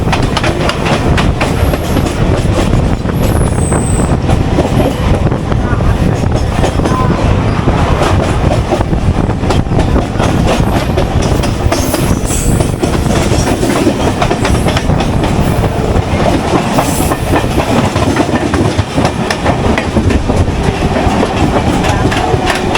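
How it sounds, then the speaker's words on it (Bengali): A Howrah to Digha local train runs on rails, its loud, close rumble and steady clickety-clack of wheels filling the whole stretch without a break. "ট্রেন চলে এলো তার প্রথম স্টেশন সাঁতরাগাছি স্টেশনে।"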